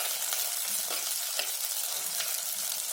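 Shallots, green chili, garlic and curry leaves sauté in a pan with a steady, close sizzle and light stirring scrapes, no voices.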